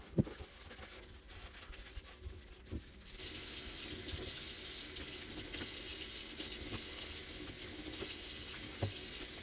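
Light clattering and handling noises in a kitchen give way to a kitchen sink tap gushing steadily as a cap is washed, the water close and continuous for the rest of the clip, with no talking.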